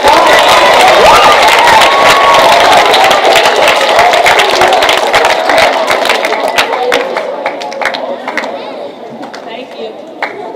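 A loud outdoor crowd at a community celebration claps and cheers for participants, with whoops and shouts over dense applause that slowly thins out, while voices chatter throughout.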